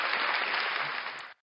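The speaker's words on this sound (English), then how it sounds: "Round of applause again" Round of applause dropped into a podcast episode, a dense steady burst of many clapping hands that holds evenly at close, loud level for just over a second before cutting off abruptly, with no talk over it.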